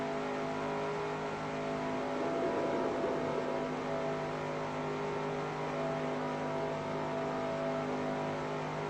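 NASCAR race car engine at Daytona in a racing game's career mode: a loud, steady high-rev drone with a brief surge early on, running continuously without pause.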